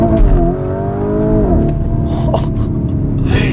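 A Lamborghini Urus accelerates hard from a standstill in first gear. Its loud engine roars close up as the pitch climbs steadily, drops briefly at a shift, then keeps building, with road and wind noise mixed in.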